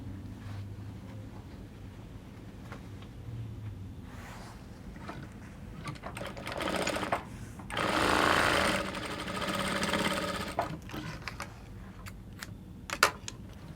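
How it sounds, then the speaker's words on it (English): Sewing machine stitching darts on the back of a bustier dress, a fairly faint, close whir rising in two short bursts mid-clip amid low handling noise and scattered clicks, without talking. "I'll go ahead, I'll sew in my darts and then turn it with my lining."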